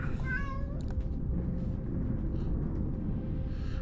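A pet cat in a home office gives a short meow near the start, a couple of quick rising cries over a steady low room rumble, then falls quiet.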